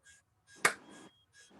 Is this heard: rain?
no